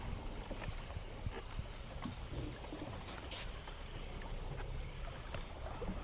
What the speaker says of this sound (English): I do hear a bass boat.